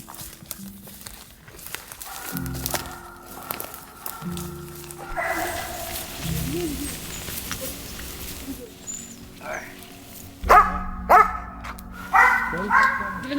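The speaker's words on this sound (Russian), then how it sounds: "Немного собак." Laika hunting dogs barking at a squirrel-hunting trial, several sharp barks from fairly close, mostly clustered toward the end, with people talking in between.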